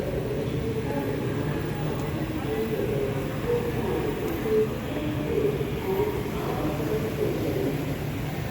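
A Singapore MRT train running from Changi toward the city, a steady, loud rumble and hiss of the rail car that holds throughout, with voices in the background.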